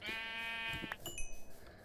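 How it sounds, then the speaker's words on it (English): A Minecraft sheep bleats twice in quick succession during a UHC survival match, clear and close, followed by a few soft game sounds. "I've got the world's least disappointing sheep"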